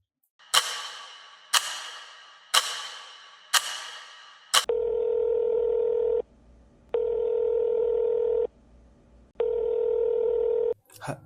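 Four sharp percussive taps are followed by a steady electronic tone that beeps in long on-off pulses, like a phone dialing and ringing out.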